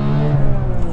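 Porsche GT3 with a naturally aspirated flat-six engine droning at steady revs, a loud sustained harmonic tone heard from inside the car.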